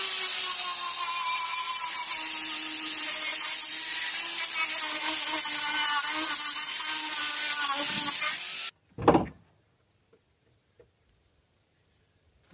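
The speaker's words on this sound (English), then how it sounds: "We're going to start grinding this down and see how the floor looks once the rust is off." A grinder scours rust from the metal floor of a 2010 Ford Transit Connect van with a loud, continuous abrasive whine for about nine seconds, then cuts off abruptly, leaving a short thud and near silence.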